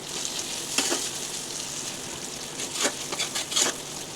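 Ginger paste hitting hot oil in a frying pan for chicken, sizzling in a steady close hiss with a few sharper crackling bursts as it is stirred.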